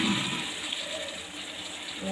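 Hot water pours from a vessel into a pan of jackfruit vegetable cooking on the stove, a steady close splashing gush that lasts about two seconds.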